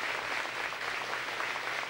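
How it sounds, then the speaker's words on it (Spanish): Spontaneous applause rises from the crowd in the town of San Pedro at the 1994 farewell for racing driver Osvaldo Morresi, a steady, dense wash of clapping throughout. "el aplauso espontáneo de todo el público, de todo el pueblo de San Pedro"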